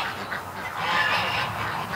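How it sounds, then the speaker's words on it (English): Geese honking near a backyard pond where ducks also gather, a few loud nasal honks in quick succession, fairly close and without talk. "But we got 3 geese now."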